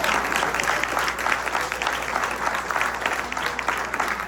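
An audience applauds steadily for over four seconds, dense overlapping claps filling the room at a loud, even level with no voices rising above them.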